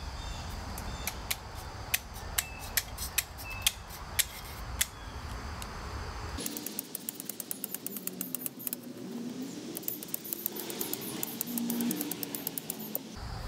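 Snips of scissors cutting through gutter guard material, a quick irregular run of sharp close clicks, first over a hum, then continuing after the background suddenly drops near halfway through.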